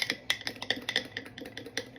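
Flour and warm water being stirred together for a sourdough starter, heard as a close series of quick clicking scrapes and taps of a utensil against the container, irregular and fairly soft, with no talking.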